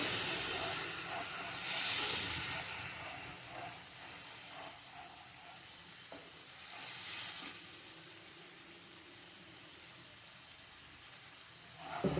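A cooking mixture hisses and steams in the pan after a splash of diluted water is poured in, with a broad, loud steamy hiss swelling and easing over several seconds and faint scraping from stirring beneath.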